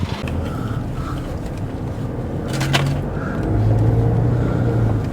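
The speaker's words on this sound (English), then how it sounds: "good timing for that noisy truck there" A noisy truck on a Sydney street passes near a car, its deep engine rumble and droning low hum swelling louder toward the end over the steady background of city traffic.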